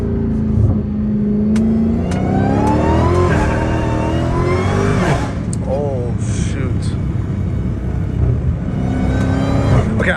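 An 800hp Dodge Hellcat Redeye accelerates hard at night, its engine roaring loudly up through the revs with tires slipping, under a driver talking over it.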